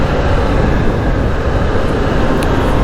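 Kawasaki Z H2 motorcycle engine in sixth gear while riding, a loud, dense, continuous roar mixed with heavy wind rush and no distinct pulses, with no talking.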